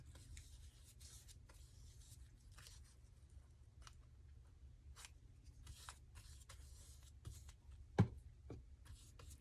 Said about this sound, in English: I think I'm going to get my scissors instead of trying to tear it